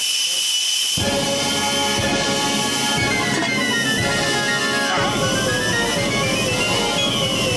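A steady, loud whistle of escaping steam with a hissing rush, continuing throughout with shifting tones and no voices.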